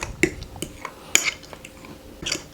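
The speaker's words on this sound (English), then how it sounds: "give it the good old stir until it's really blended up nice" A spoon stirs dipping sauce for keto onion rings in a bowl, making a few light, close clinks and scrapes over about two seconds.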